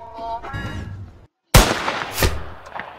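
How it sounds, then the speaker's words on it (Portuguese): Gunfire in the Roblox video game on a popular Squid Game-style map sounds as a sharp loud burst after a brief silence, following a stretch of game music and noise. "Olha o tiro!"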